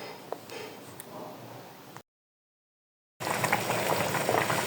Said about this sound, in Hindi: अब हम दही के पानी में चिकन को अच्छी तरह पका लेंगे।